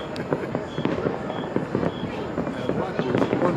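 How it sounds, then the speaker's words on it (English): Fireworks bursting all over Port-au-Prince on Christmas Eve, a steady series of sharp cracks and pops at varying distances, with people talking throughout. "Christmas Eve in Port-au-Prince, fireworks"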